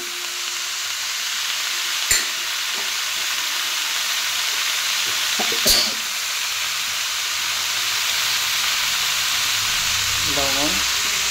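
Potatoes, already fried until reddish, go into a pan of vegetarian young jackfruit curry with a steady sizzling hiss, two sharp clanks of a utensil against the pan and a brief stirring scrape near the end.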